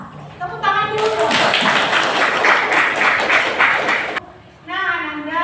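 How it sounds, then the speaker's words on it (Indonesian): Students in a classroom clap together in a dense, steady burst lasting about three seconds, with a voice heard faintly before and after. "Tepuk tangan dulu dong."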